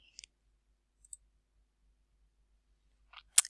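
Several faint, sharp computer mouse clicks in a quiet room, two quick ones at the start, one more a moment later, and a final louder double click near the end.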